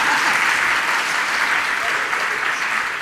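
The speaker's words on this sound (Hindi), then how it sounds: "एक बार तालियां तो बजा दो" Loud, dense clapping from a gathered audience at a Jain monk's spiritual discourse, continuous and close, holding steady for the whole stretch.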